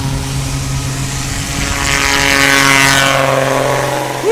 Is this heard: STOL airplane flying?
yes